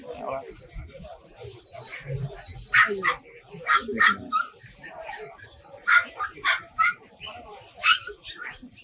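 Boxer dogs at a pet market barking in repeated sharp bursts at close range, mixed with bird chirps and chatter from people talking nearby.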